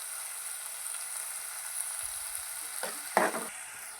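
Onions softening in a hot pan for a dried fish roe and drumstick curry, a constant bright sizzle with a couple of short stirring scrapes near the end, no voices.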